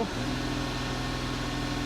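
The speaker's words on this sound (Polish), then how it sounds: "raz dodam gazu" A diesel car engine runs steadily during DPF cleaning, a close, continuous mid-range drone with a regular pulsing throb throughout.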